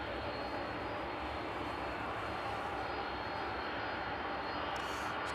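A UPS cargo jet on approach to East Midlands Airport in the evening gives a steady, moderately distant engine roar with a broad rushing texture, unbroken and fairly faint.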